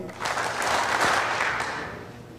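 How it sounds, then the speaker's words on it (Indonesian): A short burst of crowd clapping at a gathering, swelling to a peak and then easing off within a couple of seconds, heard alone without speech. "tepuk 3 kali."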